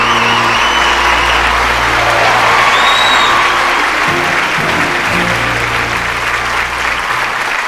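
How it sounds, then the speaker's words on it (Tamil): A large audience at a film event claps loudly and continuously to welcome Seeman onto the stage, dense even applause with a low hum underneath and faint cheering. "ஒரு மிகப்பெரிய கைத்தட்டலோட இந்த மேடையில் வெல்கம் பண்ணுறோம்"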